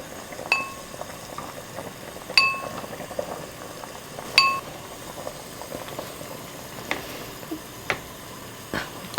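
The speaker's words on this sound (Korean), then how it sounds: "이렇게 한 10분 정도 끓이면 무도 푹 물르고 이렇게 고기도 잘 익어요." Radish and beef soup simmering in a pot, a soft steady bubbling bed with a few sharp clinks of a utensil against the pot and occasional light ticks, fairly quiet and close, with no talk.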